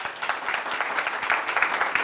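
Audience at a university provost forum claps steadily, a dense, fairly close wash of applause with no pause throughout.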